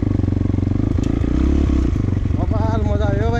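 A Crossfire FZ YBX 220 motorcycle engine revs loudly and close at a Jada bike race in Devikot, a continuous throbbing roar with clattering, while a voice or rising shouts come through near the end.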